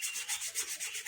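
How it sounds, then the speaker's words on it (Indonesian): Sandpaper rubbed back and forth across a Toyota Avanza drum-brake shoe pad, giving steady rhythmic scratchy strokes, close and fairly loud, with no voices. "Ini juga kita amplas"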